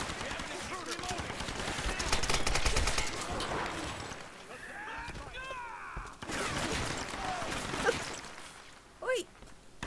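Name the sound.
gunfire from a gun in the video game Tomb Raider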